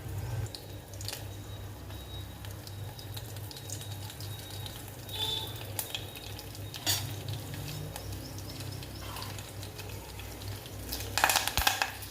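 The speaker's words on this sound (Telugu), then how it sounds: "వేసిన మసాలా అంతా కూరకు పట్టేటట్టు కలుపుకోవడమే" Masala powder is stirred into a gongura mutton keema curry in a pan, a soft continuous scraping and gentle sizzle with occasional sharper clinks of the spoon against the pot.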